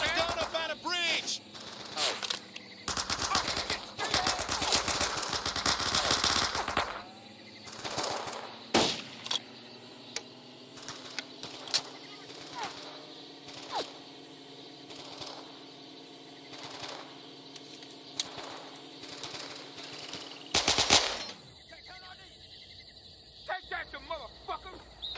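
Machine gun fire in the World War II shooter game Men of Valor, rapid bursts rattling through the opening seconds and again later, with scattered single shots and battlefield ambience between, and a combat voice shouting over parts of it.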